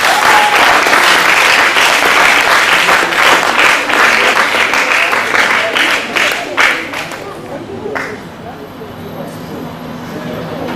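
An audience claps at a regional science and math quiz contest: loud, dense applause that slowly thins into a few scattered claps and fades to background room noise.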